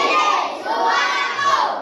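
A classroom of schoolchildren shouts back in unison, a loud, close, sustained chorus of young voices swelling twice over under two seconds.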